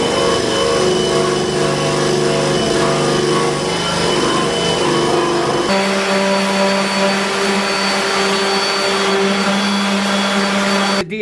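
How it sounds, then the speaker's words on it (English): Power sander stripping primer off a car fender, a loud continuous motorized whine and hum that shifts pitch partway through as the tool works the panel, running alone without talk. "Sander worked better than anything for stripping this primer off."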